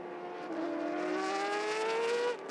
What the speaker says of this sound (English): So the cars halfway through that second formation lap